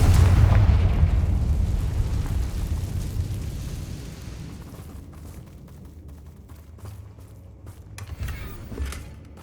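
A Confringo spell explosion in Hogwarts Legacy, a loud deep boom that rolls into a long fading rumble with crackling debris and a few smaller bursts afterward.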